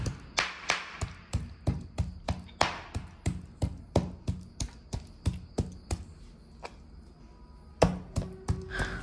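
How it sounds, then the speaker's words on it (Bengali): Knife chopping boneless chicken meat into small pieces on a cutting board: steady, rapid thuds at about two per second, close and crisp, with a brief pause before a final few strokes. "এখন এই গোশ একেবারে ছোট্ট ছোট্ট করে কেটে নেব।"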